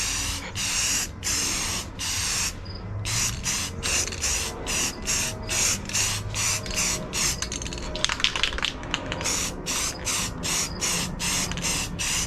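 Steady hissing spray of a paint gun applying Rust-Oleum paint in short regular bursts, close and loud, with brief pauses between passes.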